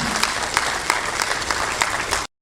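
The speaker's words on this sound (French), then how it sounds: "Sous vos applaudissements, s'il vous plaît." A crowd at an international colloquium applauds for about two seconds, a dense steady patter of clapping that cuts off abruptly.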